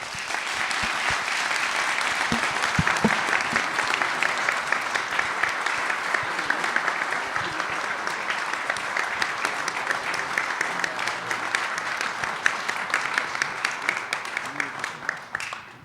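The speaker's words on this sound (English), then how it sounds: "let's give Eric a round of applause" Audience round of applause after a talk on collecting vintage watches, a long, steady clapping from a good-sized crowd that holds evenly before tapering off at the end, with some voices underneath.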